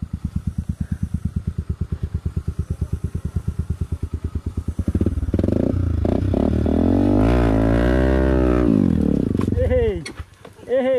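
An off-road motorcycle on an adventure trail event putters in a rapid, even thump, then revs hard into a loud, sustained roar that rises and falls before cutting out, with people shouting nearby.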